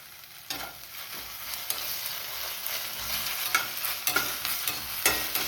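Finely chopped medium onion frying on high heat with a spoonful of ginger garlic paste, a dense continuous hiss and sizzle with periodic spatula scrapes and taps from stirring.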